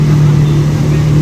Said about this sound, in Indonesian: Oh, bahaya banget ini bus Prima Jasa ya.